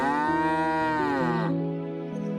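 Cows on a village dairyman's farm low in long, drawn-out moos, one call sliding into another with no pause, loud and close.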